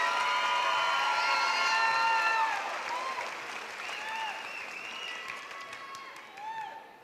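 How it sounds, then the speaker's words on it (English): High school graduation crowd applauding and cheering, a loud, dense burst of clapping with whistles and raised voices that eases off over several seconds, with a few shouts rising near the end. "Let's have a big round of applause for these outstanding students."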